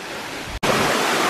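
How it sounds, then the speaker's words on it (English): A waterfall roars in a loud, steady broadband wash, close and continuous, with one brief dropout partway through. "So we're now making our way up into the waterfall itself. Super noisy."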